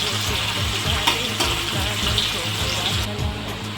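Two medium chopped onions frying in a pan for a pomfret curry, with a constant close sizzle and the repeated soft scrapes of stirring running underneath.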